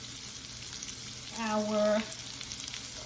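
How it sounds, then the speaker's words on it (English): Onions sizzling and frying in a hot pan, a steady crackle that swells briefly louder as they are stirred, with a voice speaking faintly over it. "Listen to them sizzle."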